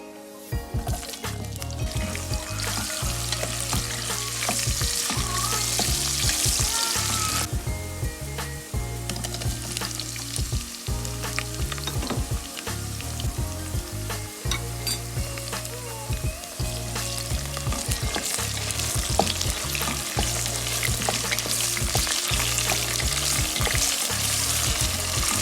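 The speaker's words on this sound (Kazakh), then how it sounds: "Пияз, картоп және де аздаған томат пастасын салып қуырып" Onion, potato and a little tomato paste fry in oil in a cauldron for dolma, giving a loud, steady sizzle with stirring noises, over a rhythmic beat that runs throughout.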